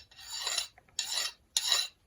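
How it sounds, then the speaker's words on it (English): Three slow, separate rasping strokes of a metal file knocking a burr off a Kubota mower spindle housing, each stroke a close, bright scrape followed by a short pause. "Just take a file and go over it and knock that little burr off."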